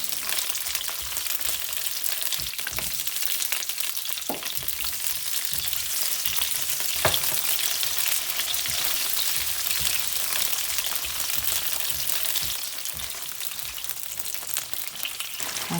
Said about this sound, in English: the whites of the bok choy and cook them a little bit until they are really tender